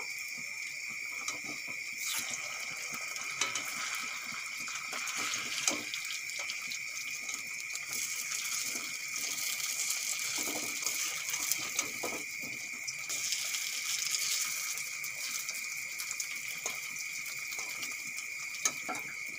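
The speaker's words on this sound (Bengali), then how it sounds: "এখন এপিট ওপিট আমি লাল লাল করে ভেজে নেব। বড়াগুলো পাল্টি করে দেব।" Potato pakora fritters deep-frying in hot oil as they are turned, a steady hiss with scattered soft crackles and pops running unbroken for about twenty seconds, fairly quiet and with no voices.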